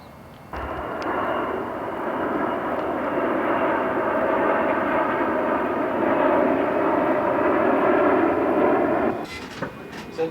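A fixed-wing airplane passes overhead in Washington, D.C., a steady, loud engine roar that builds quickly, holds for about nine seconds, then drops away, with faint outdoor noise at the end.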